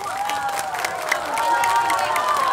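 A crowd at a temple festival celebration in Hougang claps and cheers for a singer, a steady wash of clapping that swells louder in the second half, with voices rising over it.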